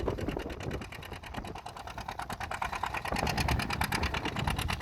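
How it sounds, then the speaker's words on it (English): A long line of farm tractors idling together at a plow day, a steady, close, rhythmic engine chug that carries on without a break and with no voices. "we're in the longest line of tractors"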